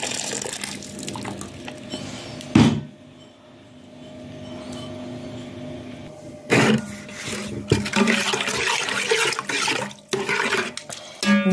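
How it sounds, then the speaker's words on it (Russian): Boiling water is poured into a container in a home kitchen, coming in a few loud splashing, gushing bursts separated by quieter pauses. "Кипяточка заливаем."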